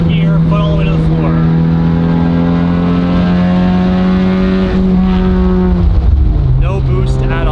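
Honda Civic Type R running on E85 and failing to build boost, accelerating at full throttle in third gear. The engine note rises loud and close with a strong, steady drone, and there's a brief dip near the end.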